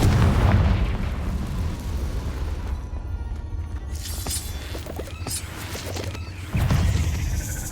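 Confringo blasting curse explosions in Hogwarts Legacy, a Gryffindor playthrough: loud booming blasts and crackling bursts over continuous low game rumble, with a heavy surge near the end.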